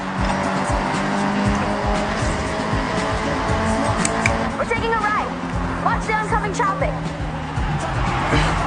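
Car in a street-driving video game near Shibuya Crossing drifts with loud, drawn-out tire squeals and engine noise, while someone talks over it.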